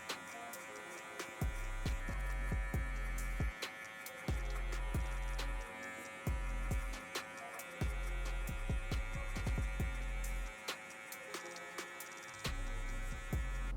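Electric hair clippers fitted with a number 2 guard, lever fully open, buzz close up while cutting a mid drop fade, running in several steady stretches broken by brief pauses.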